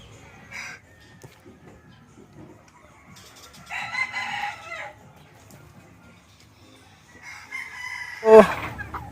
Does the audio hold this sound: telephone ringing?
no